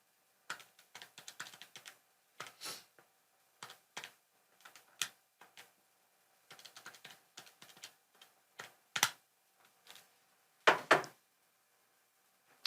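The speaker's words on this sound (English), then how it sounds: "So type it on your calculator." Calculator buttons pressed in quick irregular clusters of light clicks and taps, close and quiet, with short pauses between bursts and no talking.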